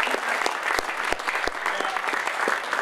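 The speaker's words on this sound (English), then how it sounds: "So let's give them a round of applause." A round of applause from attendees at a basketball coaching clinic, steady clapping from a modest crowd with distinct individual claps audible throughout, close and fairly loud.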